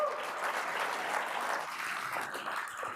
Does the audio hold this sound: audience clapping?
yes